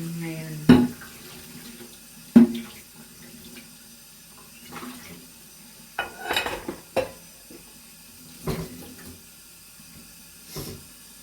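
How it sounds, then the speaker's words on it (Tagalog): Tap water runs into a dishwashing liquid container at a kitchen sink. Splashes and clinks of dishes and plastic come in irregular bursts, close and fairly loud. "Dishwashing, nilalagyan ko ng tubig."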